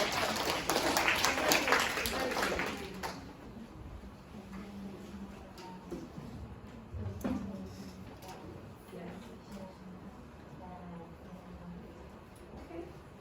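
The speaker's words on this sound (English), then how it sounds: "Please clap hands for them, okay?" Students in a bilingual music demo class clap hands for their classmates in a dense burst of applause lasting about three seconds, then the room drops to quiet with faint voices and scattered small noises.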